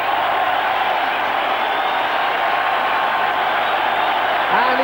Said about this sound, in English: And the roar is absolutely deafening